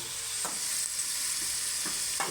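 Prawns fry in a pan with very little oil, giving a steady bright sizzle with a few sharp pops and spatters scattered through it, close and continuous with no voices.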